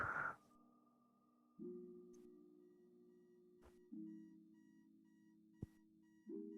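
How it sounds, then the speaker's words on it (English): A phone-style alarm goes off in a quiet room with a repeating electronic chime that steps between two low tones, plus a few faint clicks. "Whose alarm is going off?"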